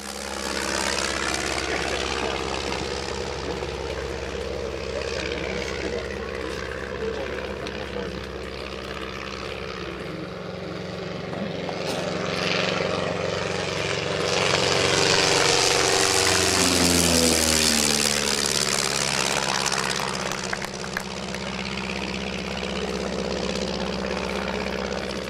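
A Stampe SV-4B biplane's propeller engine drones steadily as the aircraft flies past, swelling louder midway and then easing back to a sustained hum.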